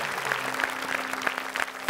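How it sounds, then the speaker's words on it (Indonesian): Short, moderately quiet audience applause for a contestant, scattered claps under faint background voices. "Tepuk tangan untuk calon."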